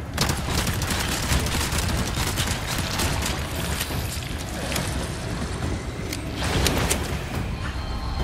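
Dense, continuous gunfire and booming blasts from the video game Resident Evil 4, a steady loud barrage with overlapping shots and a few heavier impacts throughout.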